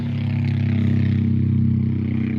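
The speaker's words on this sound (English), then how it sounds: "Very loud, the motorcycle." A loud motorcycle engine drones steadily nearby at night, a deep, even rumble that holds for a couple of seconds without pause.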